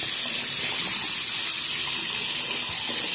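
Cold tap water gushes steadily from a faucet into a sink, a loud, continuous hiss with no pauses.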